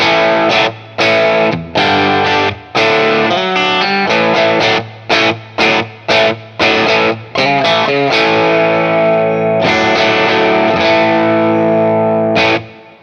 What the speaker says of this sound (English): the bridge pickup of a T-style guitar is one of the iconic tones in rock music